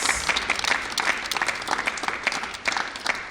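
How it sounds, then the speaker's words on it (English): A crowd claps steadily and continuously, a full round of applause filling the room with dense, even clapping. "A round of applause."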